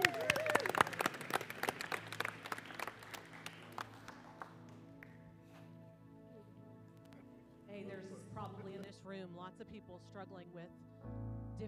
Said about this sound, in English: Y'all give Will a round of applause.